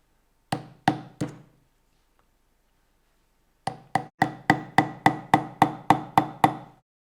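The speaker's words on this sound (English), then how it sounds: "taking the thinner of the two nails, bang a hole all the way through" A hammer drives a thin nail through a denim jeans waistband to open a press stud hole: three sharp knocks, a pause, then about ten quick, evenly spaced blows, loud and close with no talk.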